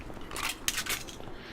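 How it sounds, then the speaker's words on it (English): Spent pistol brass casings from the video game Alpha Protocol clink and tinkle faintly as they roll away, a few light metallic taps in quick succession over a quiet background. "you hear the brass like rolling away"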